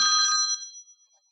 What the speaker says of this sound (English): I love the ringtone.